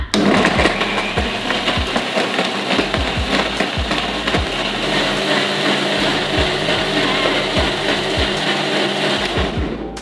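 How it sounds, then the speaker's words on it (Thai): A high-powered blender whirs loudly and steadily for several seconds while blending a vegetable juice with cold water, the motor drone punctuated by rhythmic knocking thumps of contents inside the jar, close and with no talking. "บอกเลยเครื่องปั่นเครื่องนี้นะ ความแรงสูงค่ะ"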